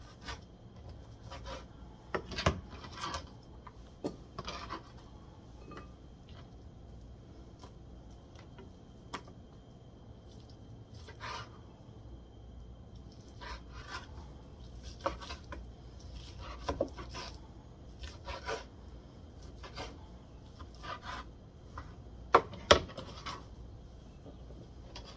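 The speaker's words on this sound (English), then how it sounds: "I'm just going to cut it up a little better so that I can throw it straight into the pan." A knife cuts leftover Easter ham chunks on a board in scattered soft taps and scrapes, close and quiet, with irregular gaps between cuts and no voices.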